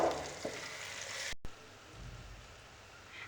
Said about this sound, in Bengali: আমার পেঁয়াজ ভাজা শেষ